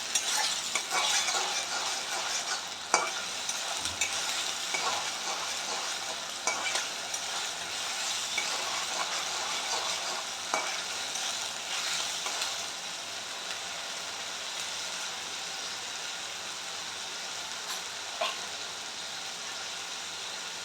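Onions fry in a pan with a soft, continuous sizzle, broken by occasional scraping and stirring knocks of a utensil, fairly quiet and steady throughout, with no talking.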